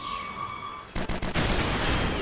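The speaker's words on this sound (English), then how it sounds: "Airstrike." Airstrike in the Fuga: Melodies of Steel video game: a quiet hum gives way to a sudden loud burst of rapid gunfire, a few sharp cracks followed by sustained dense fire.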